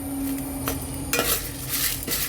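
Lentils, black pepper and curry leaves roast in a pan, giving a soft, steady crackle and sizzle with a few scraping stirs and light clinks of a utensil against the metal.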